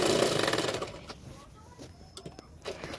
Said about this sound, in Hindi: अभी बेल्ट को उल्टाते हुए उसके किनारे किनारे पे मैं और एक सिलाई डाल दूंगी